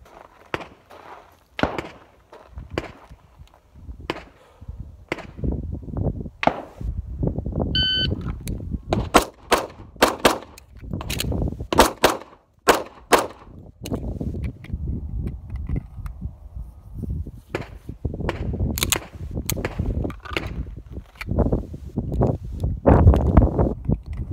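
Gunshots fired at targets at 20 and 10 yards during shooting practice, a series of sharp cracks in quick clusters, with a pause in the middle for a reload.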